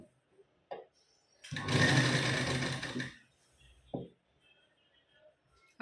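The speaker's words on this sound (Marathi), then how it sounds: "त्यानंतर आता पुढे शिलाई देऊन घेऊ." A sewing machine stitches a blouse seam in one steady whirring run of about a second and a half, close and fairly loud, with a few faint clicks and handling sounds before and after.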